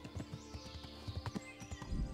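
Horse hooves clopping at a steady riding rhythm in the medieval video game Kingdom Come: Deliverance, with repeated close thuds over a low ambient bed and no talking.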